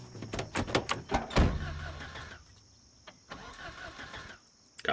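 A car engine cranks and catches in a zombie-survival video game, a quick run of mechanical turning bursts followed by a short roar, then a quieter idle with a faint hum and a thump near the end.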